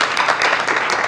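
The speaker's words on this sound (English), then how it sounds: "Give them a round of applause" An audience at a nutrition education event applauds briefly, a dense, steady wash of clapping hands heard close and loud.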